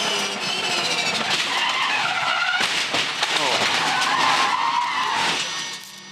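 A Dunlop Super2 race car screams down a hill toward a crash, its tires skidding and squealing loudly and continuously for about six seconds, with a commentator's voice mixed in beneath the noise.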